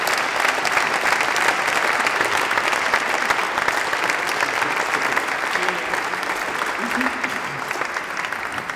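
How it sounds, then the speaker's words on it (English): Audience at a public talk applauding a local councillor: a dense, steady wash of many hands clapping together, sustained and fairly loud for the full length, fading slightly toward the end. "Asha, big round of applause"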